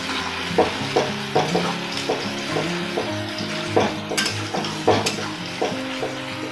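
Tomato masala sautéed in a pan for a rohu posto dish, sizzling steadily while a spatula stirs and scrapes with rhythmic clinks against the metal, close and fairly loud.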